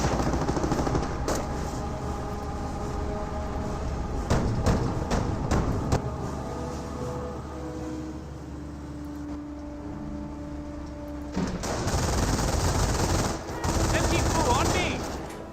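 Machine gun fire rattles in a Company of Heroes match. An MG42 and other guns let off repeated bursts over constant battle noise, and a heavy blast of firing comes near the end.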